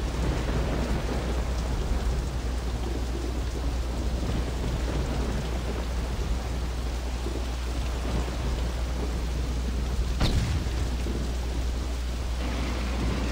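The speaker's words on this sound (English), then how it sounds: "It is hardcore raining." Heavy rain pours steadily in the Saints Row video game, a dense, constant hiss with a low rumble underneath and a sharp thunder crack about two-thirds of the way through. No voices.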